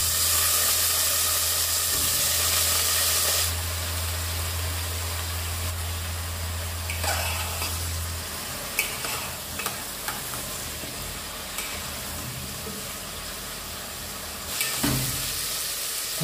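Cut brinjal frying in oil gives a continuous, moderately loud sizzle and hiss with a low hum at the start and a few scraping stirs near the end.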